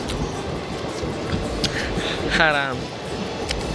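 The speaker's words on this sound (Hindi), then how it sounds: "ये देखिए लछीपुर ट्रेन, समस्तीपुर जाने वाला ट्रेन है गाइस" A passing Indian Railways train bound for Samastipur rumbles steadily nearby with a brief horn-like tonal swell partway through, while people talk over it.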